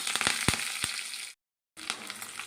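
Curry leaves hit hot tempering oil that already holds urad dal, mustard seeds, cumin and dried red chilies, setting off loud, crackling sizzles with sharp pops, then a short silence before the frying resumes.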